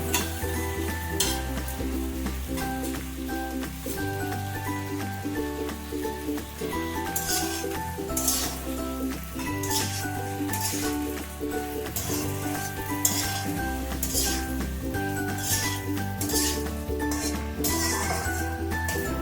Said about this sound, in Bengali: কাঁচা লঙ্কা বাটা, রসুন বাটা, গোলমরিচ, জিরে বাটা দিয়ে কষিয়ে নেব।